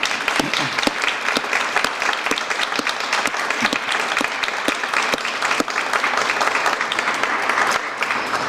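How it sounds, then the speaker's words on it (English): Sustained applause from a crowd, dense clapping filling the room steadily for several seconds with no voices on top. "Give them a round of applause."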